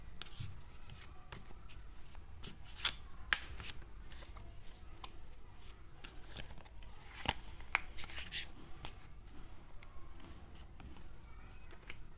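Tarot cards being shuffled by hand, a quiet, close run of rapid papery riffles and taps that continues steadily with no talking.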